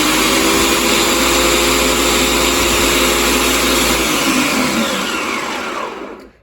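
A Bardefu 3-in-1 blender's chopper attachment runs at high speed with a loud, steady whirring motor whine, then spins down and cuts off near the end. No one talks.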